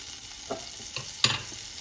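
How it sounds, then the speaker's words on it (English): Pancakes fry in butter and oil with a soft sizzle, a few scraping stir sounds and light clinks, close by, no voices. "what happens when you are frying your pancakes is that you're going to go in with a little bit of butter"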